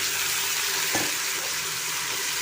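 Potato and eggplant pieces fry in an onion-lined pan with a steady, loud broadband sizzle and a brief clatter as pieces drop in near the middle, no voices.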